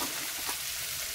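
Tomato with a pinch of salt frying in hot oil in a pan for pulao rice, a steady close hiss of sizzling with no voices.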